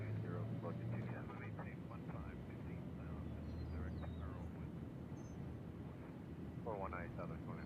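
Airplane on approach to land at Nashville International Airport, a steady distant engine roar holding throughout, with people talking over it.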